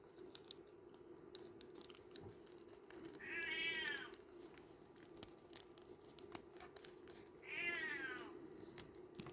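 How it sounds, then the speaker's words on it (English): A cat meows twice, several seconds apart, each a drawn-out mid-pitched call over a quiet background hum with light tapping noises. "You might be able to hear a cat meowing in the background."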